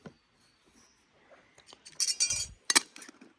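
Metal camping stove and cook pot clink and rattle as they are folded down and packed away on an Appalachian Trail hike, a few sharp bright clinks clustered together after quieter handling rustles.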